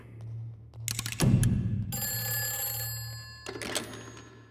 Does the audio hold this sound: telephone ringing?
yes